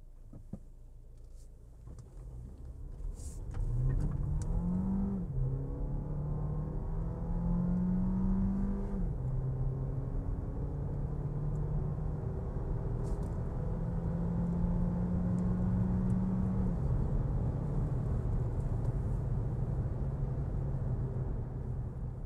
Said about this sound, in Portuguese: vamos fazer aquela subida, aquela aceleração na subida que a gente está acostumado a fazer